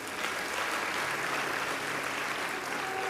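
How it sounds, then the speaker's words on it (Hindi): Applause from a religious gathering for Wasim Rizvi, a steady, fairly quiet wash of many hands clapping at once, continuous and unbroken throughout. "एक बार उनके लिए ताली बजाओ"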